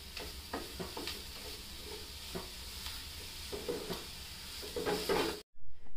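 Jaggery being stirred into a coconut filling in a hot pan, a continuous close sizzle broken by repeated scraping strokes of a spoon, ending abruptly in a brief silence.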